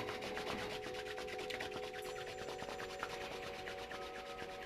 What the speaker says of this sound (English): just have a little wiggle, rub the hands